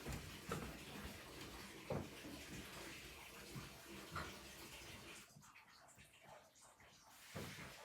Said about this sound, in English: you guys can probably hear the water